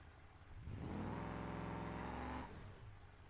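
A car driving in BeamNG, its engine swelling into a steady rising drone for about two seconds before easing off, fairly quiet, with no voices.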